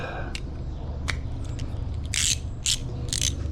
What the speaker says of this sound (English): let me grab my trusty little quarter drive Craftsman, my favorite little quarter drive ratchet in the world